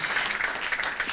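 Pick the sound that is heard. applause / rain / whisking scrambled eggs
applause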